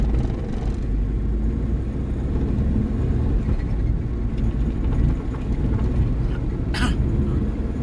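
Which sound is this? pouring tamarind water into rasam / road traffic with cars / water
road traffic with cars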